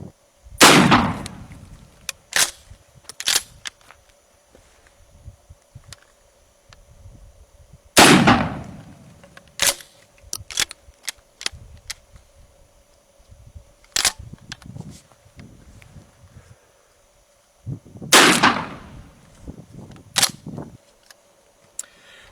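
Shotgun firing exotic shells loaded with larger-diameter rods, three sharp loud blasts spaced several seconds apart with short ringing decays, plus scattered clicks and handling noise between shots.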